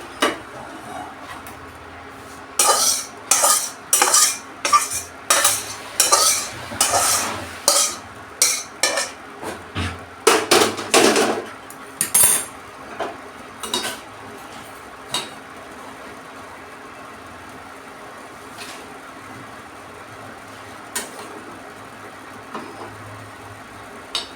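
Metal utensils clinking and scraping against a plate and pan while cooked fish with kasundi is served, a quick run of close, sharp clatters that thins into scattered taps.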